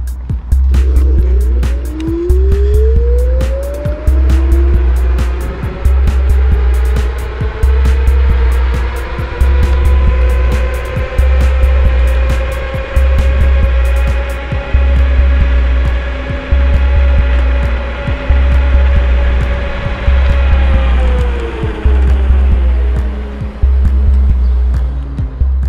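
Janobike T10 dual-motor electric scooter, 65 km/h class, accelerating hard from a start: a rising electric motor whine climbs in pitch over about twenty seconds, levels off, then winds down, over steady rumbling road and wind noise.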